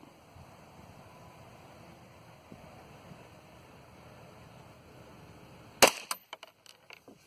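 A single sharp gunshot fired at a target from a handgun fitted with a Burris Fast Fire 3 sight cracks out after several seconds of quiet outdoor wind, followed by brief echoing knocks and small clatters.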